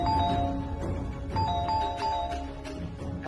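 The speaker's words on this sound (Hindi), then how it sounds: "कौन इतनी जोर से बेल बजा रहा है?" A doorbell rings again and again, its ding-dong chimes repeating under a constant background of music in a home setting.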